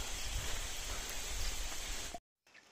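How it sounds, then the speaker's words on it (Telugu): Steady rain hisses down on a mountain ghat road during a cycling ride, a soft continuous wash of drops heard nearby at low level, cutting out abruptly near the end. "వర్షం కూడా ఆగట్లేదు"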